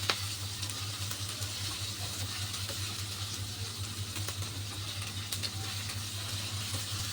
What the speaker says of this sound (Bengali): আমি এইভাবেই ভিন্ডিগুলোকে নাড়াচাড়া করে বেশ একটু লাল লাল করে ভেজে নেব।